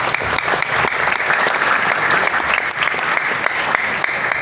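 Sustained audience applause at a Nahdlatul Ulama gathering welcoming a senior board chairman, dense and steady clapping from a large crowd filling the whole stretch at a loud level.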